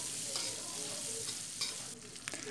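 Candlenuts, shallots, garlic and chili fry in used oil with a steady, close hiss of sizzling, broken by a few soft scrapes of stirring.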